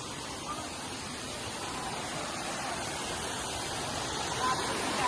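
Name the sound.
waterfall flowing at Ajoba hills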